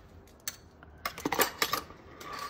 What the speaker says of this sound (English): Now I can whisk this briefly.